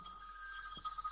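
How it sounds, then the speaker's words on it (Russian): An incoming call sets a phone ringing with a thin, high electronic trill that holds steadily, faint and slightly distant, with no talk over it. "Слышь, малыха звонит."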